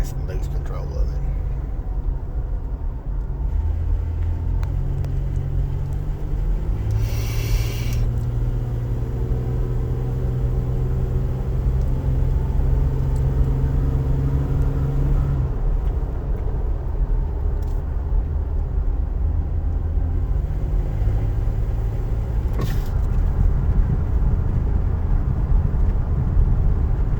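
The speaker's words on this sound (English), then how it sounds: "your driving speed will increase as you get used to how the vehicle handles" A car engine hums low and steady while driving, with shifting droning tones and road rumble throughout, under frequent conversation inside the vehicle.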